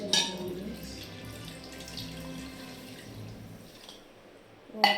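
Water runs into a bowl with a soft, steady trickle and splash, close by and fairly quiet, starting with a brief louder burst and ending with a sharp clink.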